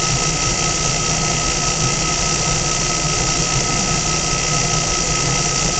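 A steadily spinning electric motor gives a constant, even whine with a high squealing tone, unchanging and fairly loud throughout with no talking.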